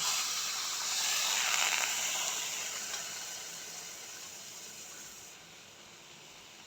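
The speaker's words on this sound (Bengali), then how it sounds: "2 বাটি জল দিয়ে দিলাম" Water hits lightly fried semolina in a hot pan, throwing up a loud, continuous hiss of steam that slowly fades over several seconds.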